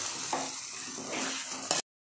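Perandai (adamant creeper) sautéing in oil for thuvaiyal, a soft continuous sizzle with a few scraping stir strokes, close and moderately quiet, ending abruptly.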